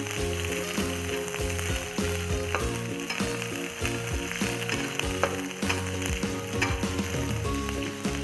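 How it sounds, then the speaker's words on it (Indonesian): Shallots and red chili stir-fry in a pan with a continuous bright sizzle and occasional stirring, with loud rhythmic music playing over it throughout. "Oke, kita masukkan bawang merah, cabai merah. Kita aduk terlebih dahulu."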